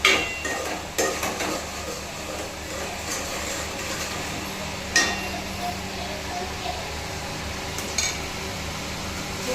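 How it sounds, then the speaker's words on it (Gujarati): Potato shaak being tempered in a pan, giving a low, steady sizzle with occasional stirring knocks, fairly faint throughout. "હું હવે વઘારું છું શાક"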